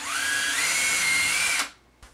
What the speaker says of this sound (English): I'm going to drill a pilot hole with this drill bit.